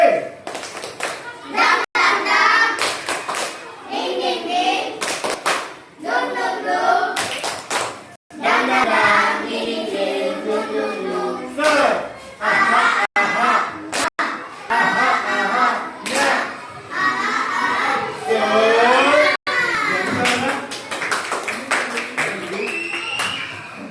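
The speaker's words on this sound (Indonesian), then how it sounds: "Kita berikan tepuk semangat 3D" Primary school children in a fifth-grade science class perform a rhythmic clapping cheer, the tepuk semangat, with sharp patterned claps in bursts interleaved with their chanting voices in an indoor room.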